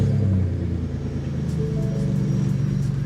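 Turbocharged 3.7 V6 Mustang engine running on E85 after its first start, a loud low rumbling idle close by that settles into a steady, slightly uneven drone.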